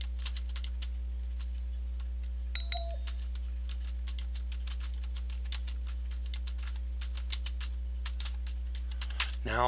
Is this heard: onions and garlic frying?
no